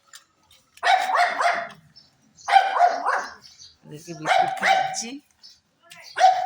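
Several dogs bark at a gate in short repeated bursts, close and loud, with a person speaking briefly between them.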